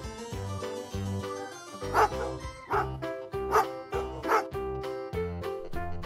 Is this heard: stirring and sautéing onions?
no